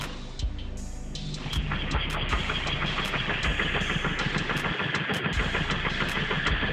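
A Sachs Wankel rotary engine starts up and settles into a loud, buzzy, rapid running rumble with a steady high whine, close by and without talk.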